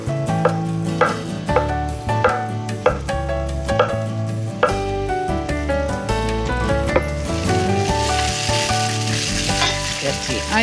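Onions frying in a pan for a crispy cheese frico, a steady close sizzle with stirring scrapes and clinks, while potatoes are added and background music plays.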